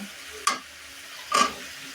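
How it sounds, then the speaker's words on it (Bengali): Eggplant and potato pieces stirred into spiced oil in a pan, two brief scraping stirs with a soft sizzle underneath. "এখন এখানে বেগুন আর আলু দিয়ে দিব সবজিটা কষানোর জন্য"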